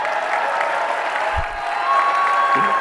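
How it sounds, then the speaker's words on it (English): An audience at a motivational talk gives the speaker a round of applause: a steady, full wash of clapping and crowd noise that holds for the whole stretch without a break. "Can you give me a round of applause for doing that shit?"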